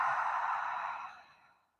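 A deep exhale during a guided breathing exercise, a single long breathy release that fades out over about two seconds, close and alone with no talk.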